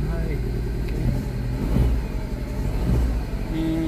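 Mini Cooper R56 engine idles with a misfire, a loud, rough, uneven rumble with irregular stumbles, while a person talks over it.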